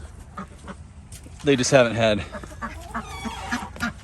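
A duck gives a loud, close quack, and a person speaks briefly nearby amid light outdoor background noise.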